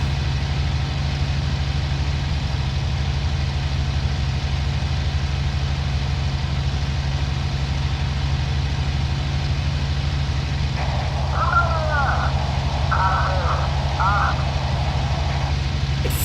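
Aircraft engine in the Cliffs of Dover flight game, a steady low droning hum running throughout at low RPM, with a brief voice talking over it near the end.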